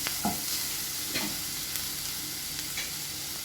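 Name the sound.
vegetables being sautéed in a pan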